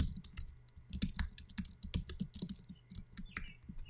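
Rapid, uneven typing on a computer keyboard, the keys clattering close and clear in dense bursts with brief pauses, no voices over it.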